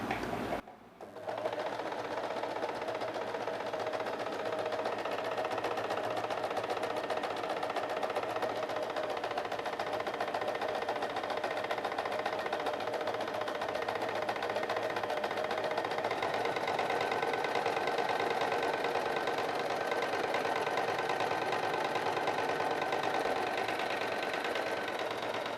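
An electric sewing machine with a picot foot runs steadily while stitching a rolled picot hem, giving a continuous close whirring hum with fast rhythmic needle clatter. The stitching starts after a brief pause and goes on for the whole stretch, with no voices.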